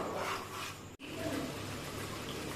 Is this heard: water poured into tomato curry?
yes